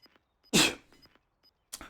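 A single sharp sneeze bursts out close to the microphone during a Call of Duty Warzone match, followed by a brief fainter trailing sound, with quiet game noise around it.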